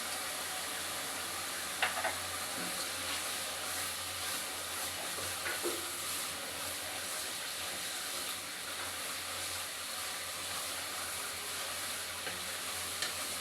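Peanuts dry-roasting in their shells in a pan on the stove, a steady close rattling and scraping stir with a soft hiss underneath and a few sharper clicks, continuous and fairly quiet, with no talking.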